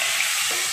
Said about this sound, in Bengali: সরষে আর শুকনো লঙ্কা একটা দিয়ে ভালো করে নেড়ে নিচ্ছি